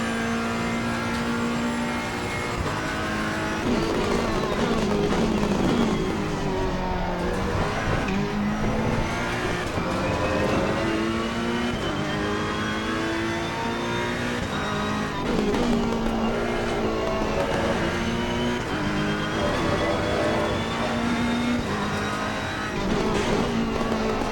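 Race car engine in the sim racing game Assetto Corsa Competizione, lapping toward Lesmos: a loud, continuous engine whine that rises and falls through gear changes, with brief tire squeal, and no speech.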